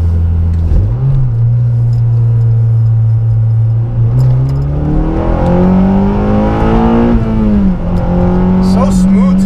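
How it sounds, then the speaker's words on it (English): Honda Civic Si exhaust, a 9th-generation car, pulling hard under acceleration with its pitch climbing through the gears and dipping briefly at a shift, loud and continuous from the cabin while a person talks over it. "The exhaust is a little droney, but when you get on it, it sounds really good."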